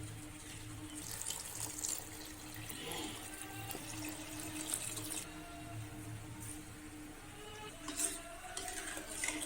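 Water runs steadily into a pot of washed rice for vegetable and peas pulao, a continuous tap-like pouring with a faint hum beneath and no talking.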